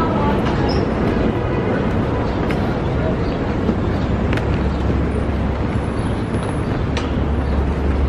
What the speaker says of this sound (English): Underneath there is a subway.